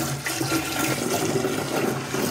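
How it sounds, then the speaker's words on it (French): Water poured steadily into a kombucha fermenter, a continuous rushing, splashing flow heard up close and fairly loud throughout, with no talking. "Je vais simplement ajouter toute l'eau dedans"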